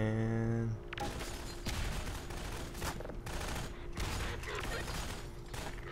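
Submachine gun fire in the video game Half-Life 2, with rapid bursts of automatic shots rattling through a dense battle din, loud and close, with a few brief pauses between bursts.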